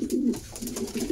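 Close pigeon coos, a few low rolling calls with short gaps between them, soft and steady with no voices over them.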